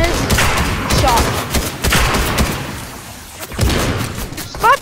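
Rapid bursts of video game gunfire in Fortnite, repeated shots crackling through a busy mix with loud peaks near the end, with voices in the background.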